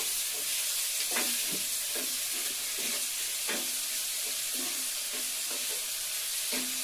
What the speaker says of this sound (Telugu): పెసరపప్పుని కూడా బాగా వేయించి